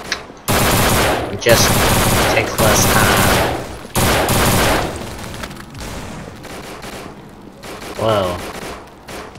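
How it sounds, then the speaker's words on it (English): Rapid machine gun fire at zombies in the video game No More Room in Hell, loud sustained bursts broken by short gaps before trailing off, with someone talking briefly over the end. "One of the most hassle-free ways of killing a zombie is with a machine gun"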